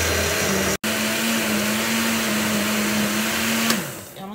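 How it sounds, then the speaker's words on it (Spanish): A blender purees chile salsa with salt and pork rinds, giving a loud steady motor whir with one brief cut near the start before it winds down and stops. "Vamos a licuar."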